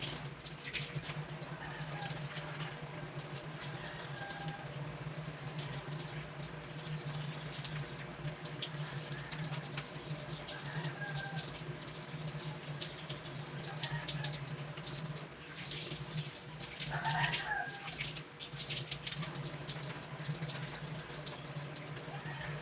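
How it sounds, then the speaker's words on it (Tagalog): Tap water runs steadily into a sink during thorough hand washing, a continuous hiss of flow with a few brief splashes from the hands partway through. "now I'm going to perform thorough hand washing to deter the spread of pathogenic microorganisms"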